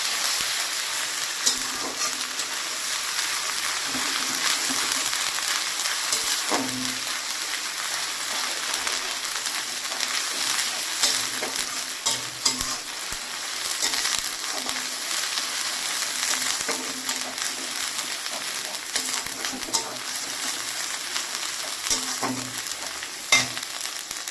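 Chicken pieces stir-frying in ginger-garlic paste crackle in a continuous bright sizzle, with soft scraping and occasional spoon knocks recurring throughout at an even, moderate level.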